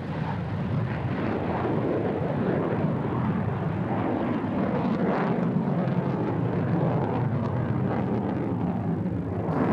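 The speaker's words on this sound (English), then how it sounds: "The F-16 is a fantastic aircraft for air demonstrations." A Thunderbirds F-16 fighter jet roars continuously through an air show demonstration, a loud, broad, steady engine rumble with a slightly shifting whoosh as it passes.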